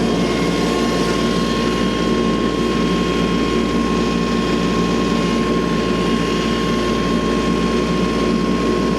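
A farm tractor engine runs steadily while driving to a wood pile on a winter firewood day, a constant loud drone with a low rumble and a sustained whine, no pauses.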